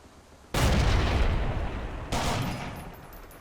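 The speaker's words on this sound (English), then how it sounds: "Best way to fire the LMG is in short bursts" A light machine gun fires in the World War II shooter Forgotten Hope 2, two loud sustained bursts of rapid gunfire, close and booming, the second starting right after the first ends.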